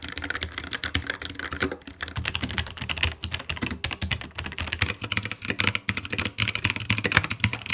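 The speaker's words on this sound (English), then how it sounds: "the linear red Agile switches feel smooth and awesome for typing" Rapid typing on a low-profile tenkeyless keyboard with linear red switches, with fast, uneven bursts of close, soft keystroke clacks and short pauses between words.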